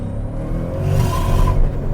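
A turbocharged 3UZ V8 Lexus GS running E85 with a dual-clutch gearbox accelerates hard in second gear. A deep, loud engine drone rises with a whirring turbo spool, heard from inside the car, with no talking.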